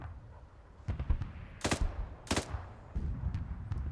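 Automatic rifle fire in Arma 3: a few sharp bursts of loud, cracking shots, with quieter scattered pops and background rumble between them.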